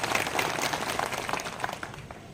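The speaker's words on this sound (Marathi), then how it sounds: "आपल्या सर्वांनी जोरदार टाळ्या वाजवा ही विनंती आहे" Crowd applause at a public thank-you gathering for Vasantrao Chavan, a dense, steady patter of many hands clapping at moderate volume for a couple of seconds, easing slightly toward the end with no talk over it.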